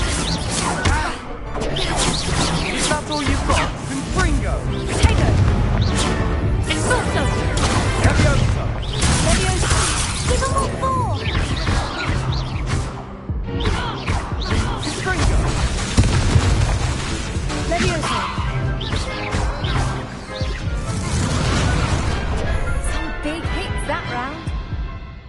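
Repeated booming spell blasts and crashing explosions from a Hogwarts Legacy duel, loud and dense with rapid impacts over a dramatic game score, continuing steadily throughout.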